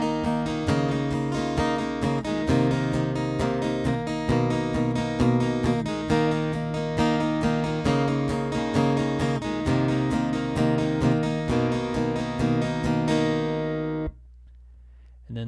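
Acoustic guitar strummed in a busy rhythmic pattern from the bridge of a song, loud and close, ending on a held chord with a brief muted stop.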